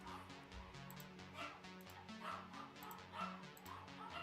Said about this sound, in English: Pugs do this. It's their barking. Their excitement bark.